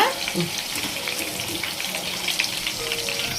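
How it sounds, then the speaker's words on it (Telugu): Green chilies fry in a pan, a steady, close, hissing sizzle with bubbling crackle running throughout, with faint background voices. "పచ్చిమిర్చి కూడా కొంచెం వేయించుకుందాము."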